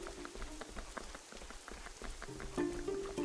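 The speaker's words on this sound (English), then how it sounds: "Oh, you can see the rain from the outside." Steady patter of rain falling outdoors in the video game Fall of Porcupine, a soft continuous wash with scattered droplet ticks and a few faint tonal game sounds, with no one speaking.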